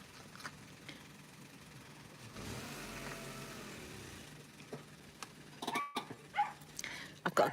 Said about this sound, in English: I've got a car just parked next to me